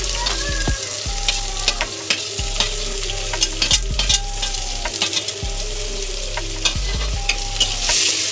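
Sliced onions fry in a pan for lemon chicken, hissing steadily while a utensil stirs and scrapes against the pan in regular knocks about once a second, close and fairly loud with no speech.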